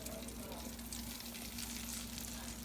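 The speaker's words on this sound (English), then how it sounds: "And we're going to continue frying the rest of them." Steady, crackling sizzle of flour-coated swai fish frying in hot oil, continuous and close, with a low hum underneath.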